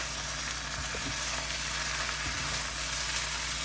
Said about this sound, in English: now it's just a matter of getting the rice and the meat mixed together